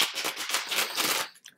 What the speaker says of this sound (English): Let me just give this another